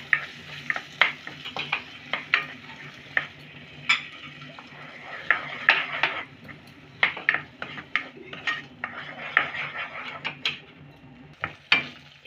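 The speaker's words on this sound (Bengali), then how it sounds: "এবার কিন্তু আমি পিষে রাখা এই পালকটা দিলাম, ভালো করে মশলার সাথে মিশিয়ে নেব" Ground spinach being stirred into spices in a pan while cooking Dhaba-style palak paneer, giving repeated utensil scrapes and clinks against the pan over a soft sizzle, close and steady with no talking.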